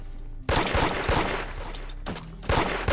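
Rapid bursts of gunfire in the Roblox game Da Hood, loud and close, with a dense volley at first, a short pause, then fresh shots near the end and no talk over them.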